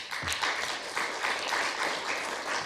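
An audience at a health and economic forum in Kigali claps steadily in a sustained round of applause, moderately loud and even throughout.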